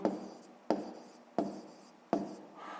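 A pen writes on paper in four short, even strokes, each starting with a soft tap and trailing off into a faint scratch, close and quiet with no voice.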